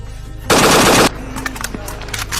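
A single loud, close burst of machine-gun fire from across the border lasts about half a second, followed by quieter scattered clicks and movement noises.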